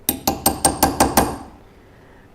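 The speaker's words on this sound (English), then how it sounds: "Oops, wrong hammer." A hammer strikes hard seven times in a quick, even rhythm in a workshop, each blow ringing briefly, then falls silent before one more sharp strike at the end.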